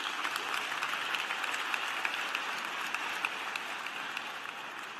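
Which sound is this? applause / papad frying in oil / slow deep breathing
applause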